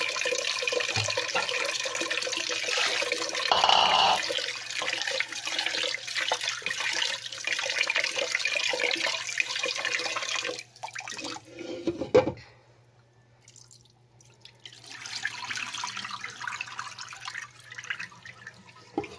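Water runs and splashes as glutinous rice is washed in a bowl, a close sloshing flow broken by a brief louder gush, then quieter trickling and swirling.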